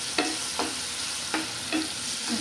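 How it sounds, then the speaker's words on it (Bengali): Dried ichha shrimp fry in a pan with a constant bright sizzle, broken by five evenly spaced scraping stirs over a couple of seconds. "ইচা শুটকি, শুটকিটা এখানে ফ্রাই হয়ে যাবে।"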